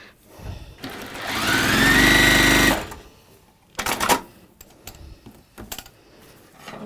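A sewing machine stitches two same-colour fabric pieces together in one loud, steady whirring burst of about two seconds, followed by scattered clicks and handling sounds as the fabric is moved.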